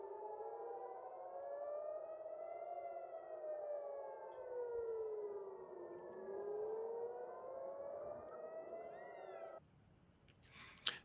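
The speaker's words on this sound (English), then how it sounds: "there's audio incoming of rocket sirens" Rocket air-raid sirens wail over Tel Aviv, several rising and falling tones overlapping in slow sweeps at a moderate, distant level, cutting off near the end with a brief clatter.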